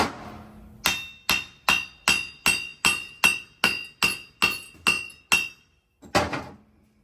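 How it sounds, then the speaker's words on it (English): A brass hammer strikes a brass drift about a dozen times at a steady, even pace to seat a keyway on an engine camshaft. Each hit rings out clearly and close, then a short pause precedes two final taps. "notice we're using a brass drift. I mean, this thing is brass hammer."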